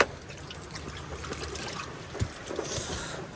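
Floodwater trickles and dribbles steadily out of a car after village flooding, a continuous close watery flow with small splashes and no talking.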